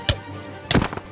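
Two explosions from orbital strike cannons in a Minecraft fight: a short sharp blast, then after a pause a louder, longer, rumbling burst with several crackling hits.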